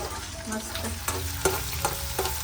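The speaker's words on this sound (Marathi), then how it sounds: "तुम्ही पण हा ठेचा फक्त तेलामध्ये परतून पहा" Thecha, a Maharashtrian chili-garlic relish, crackles and sizzles in hot oil in a pan, with a spoon stirring and knocking against the metal every so often, heard close and without voices.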